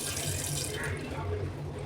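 A wash basin tap with a zinc filter runs fully open, water rushing steadily and loudly into the sink throughout with no pauses.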